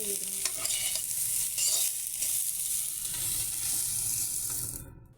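Soybean chunks fry and sizzle in hot oil in a pan while a spoon stirs them, giving a steady, close crackle with scraping strokes throughout before it cuts off abruptly at the end.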